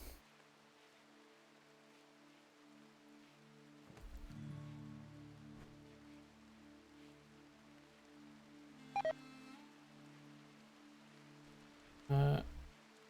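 A mobile phone sounds a couple of short, faint electronic notification chirps a few seconds apart, over a quiet, steady background hum.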